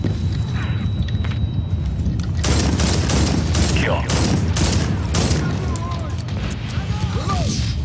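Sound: grenade explosion and gunfire in video game Medal of Honor

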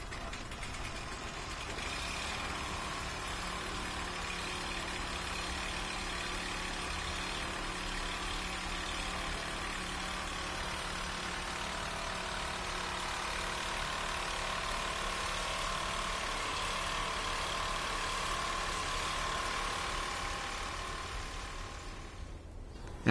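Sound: Toro snowblower engine running

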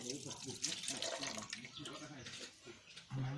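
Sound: pouring water to mix with coconut milk

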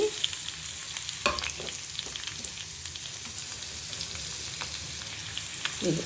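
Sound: bitter gourd and onions frying in a pan

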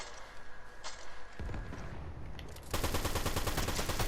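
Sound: gunfire in Fortnite video game

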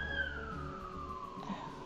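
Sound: siren of an ambulance going by

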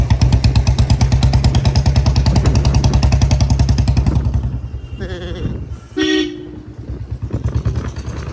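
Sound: Hero Honda Platina motorcycle starting and running

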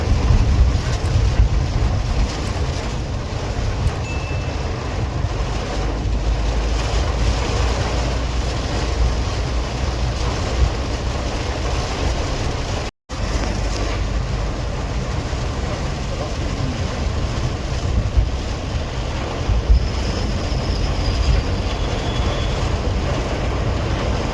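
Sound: heavy rain pounding on car

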